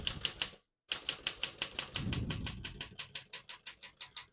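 Someone types on a 1960 Smith-Corona Galaxie portable typewriter, a steady run of crisp mechanical key strikes near the microphone, broken by one short pause, with a low carriage rumble partway through.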